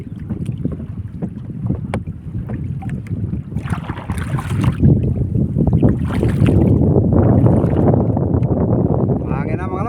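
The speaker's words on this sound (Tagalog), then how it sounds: "Mahangin na mga lods," Strong wind blasting the microphone after rain, with constant low rumble and gusts that grow louder toward the end, a voice talking faintly beneath it.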